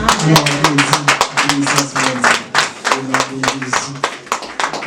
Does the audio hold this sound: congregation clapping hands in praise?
yes